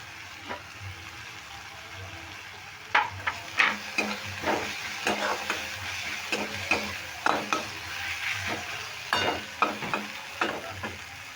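Curry leaves fry in a pan while being stirred for a sooji and maida snack. A steady sizzle sits under a long series of close, clicking scrapes from the spoon against the pan, with no voices.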